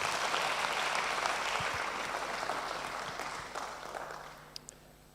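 An audience at an international conference applauds a professor after a presentation, a dense round of clapping that slowly thins and fades, with a few last isolated claps at the end.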